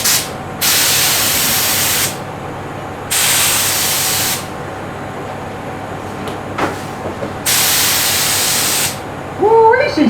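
A paint spray gun lays colour on a GQ dual cab ute in three long, loud hissing passes, each lasting one to two seconds, separated by quieter gaps with faint handling clatter.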